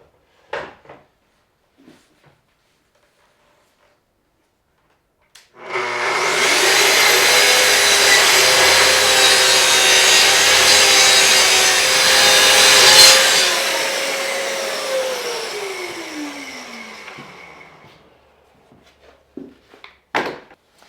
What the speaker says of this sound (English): now I'm going to cut these two pieces of plywood to their final length.